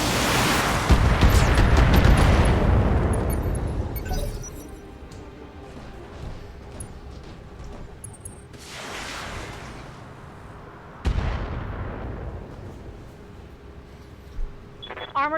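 Mech weapons firing in the Battletech video game: a heavy roaring volley that fades after about four seconds, followed by two more sharp blasts with rumbling tails, loud and with no speech.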